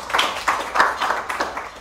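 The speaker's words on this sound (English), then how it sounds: "So give them a round of applause." A short burst of applause from a small group at a water scarcity report launch, scattered claps rising and falling for a couple of seconds.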